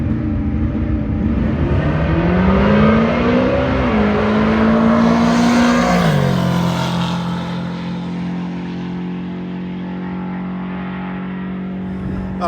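Drag race car running on low-ethanol fuel making a pass down the strip, a loud engine note climbing in pitch through gear changes, then settling to a steady lower drone as it fades into the distance.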